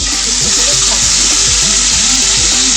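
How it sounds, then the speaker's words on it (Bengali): Fenugreek seeds crackle and sizzle in hot oil, a steady dense hiss that runs the whole time with a faint voice underneath. "আট 10টা মতো মেথি ফোড়ন দিলাম।"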